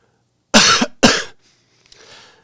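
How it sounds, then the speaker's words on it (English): Two deliberate, forceful coughs in quick succession, close and loud, followed by a faint breathy exhale. "let's see what happens if I try to force myself to cough"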